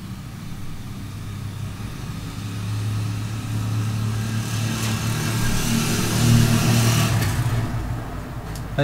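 Motorcycle engine in the game Undertale, a steady low droning hum that slowly swells louder and then eases off, continuous and mid-level, with a sharp click near the end.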